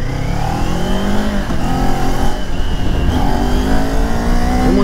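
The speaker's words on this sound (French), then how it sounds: "Si vous mettez poignée dans l'angle, en fait, ça n'arrête pas d'accélérer la machine." A 2023 Kawasaki Ninja 400 sport motorcycle accelerates hard, the engine rising through revs in loud climbing sweeps, dipping briefly at a gear change and then rising again.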